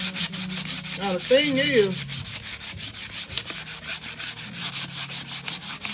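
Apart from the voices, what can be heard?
hand sanding painted BBQ grill rims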